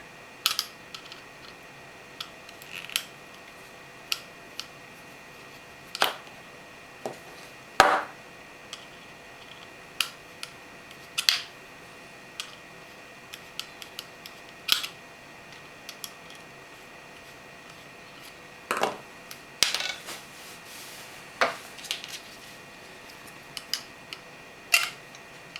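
Screws being undone on an Ultimarc U360 joystick: scattered faint clicks and small metallic ticks at irregular intervals, close up in a quiet room with no talking.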